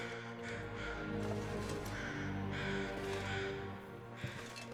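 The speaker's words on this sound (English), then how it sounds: "I hear the crows." Crows cawing in The Long Dark video game, a series of harsh caws repeating at moderate distance over a steady low ambient background, with no talk.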